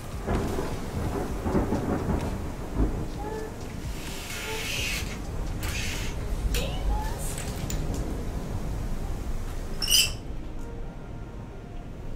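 A thunderstorm with rain comes in through a window open a crack, giving a constant rain hiss with low rumbling thunder and a sharp crackle near the end, while a voice speaks faintly indoors.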